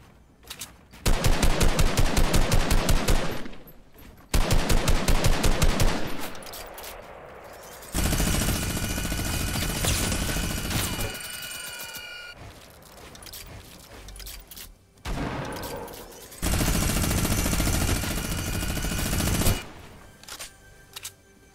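Video game gunfire in Borderlands 3 content within Fortnite: long rapid bursts of automatic fire alternating with gaps and denser mixed shooting, loud and close, coming in repeated volleys.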